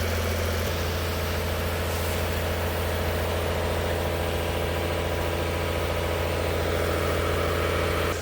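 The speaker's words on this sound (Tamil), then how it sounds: "ஜென்ரேட்டர் சவுண்டு தான் கொஞ்சம் ரொம்ப தொல்லையாக இருக்கும்னு நினைக்கிறேன்." A generator running steadily at a lorry restoration workshop, a loud, continuous engine drone with a low rumbling throb and no breaks throughout.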